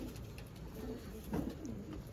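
Soft, low pigeon cooing repeats a few times against a steady background hum, no voices.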